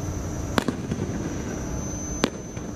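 Two sharp fireworks bursts at Enchanted Kingdom theme park ring out about a second and a half apart, with a few fainter pops and crackles in between, over a steady outdoor hum.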